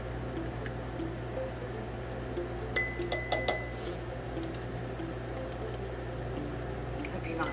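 Glass canning jars clink together a few times in a home kitchen while chicken is being canned, short bright knocks over a steady background hum.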